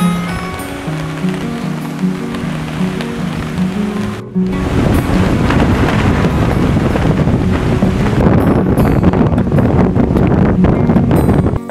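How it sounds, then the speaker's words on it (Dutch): Strong wind roaring across the microphone during a wilderness canoe camping trip, a constant loud rumble that grows heavier partway through, with no talking. "Voor mij is overduidelijk wind het zwaarste."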